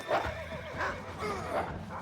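A horse in the Red Dead Redemption video game whinnies after being shot, a few shrill neighing cries in succession, close and clear with no talk.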